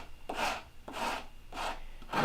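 Coarse 40-grit sandpaper worked over wood by hand, four slow, even, rasping strokes in a steady back-and-forth rhythm, close and moderately loud, with no talk.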